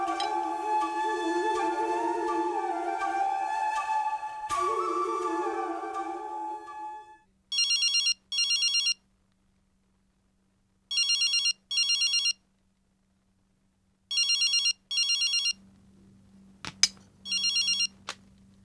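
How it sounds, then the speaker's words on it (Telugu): A telephone rings in repeated paired bursts, clear and electronic, after someone speaks at the start; the rings continue with silent gaps between them. "నేనిప్పుడే తనకి ఫోన్ చేసి చెప్పేస్తాను"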